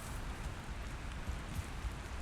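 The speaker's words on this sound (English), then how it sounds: "Oh, it's raining." Soft, steady rain in the video game Valheim patters faintly with a few low thumps, a muted wash of drops with no voices.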